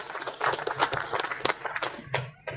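Applause from an audience of officials, media and guests at the inauguration of an integrated waste processing facility in Pemalang, a crowd clapping steadily and fairly loudly for a few seconds, with a voice briefly mixed in.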